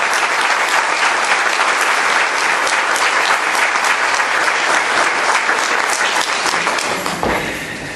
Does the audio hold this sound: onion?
no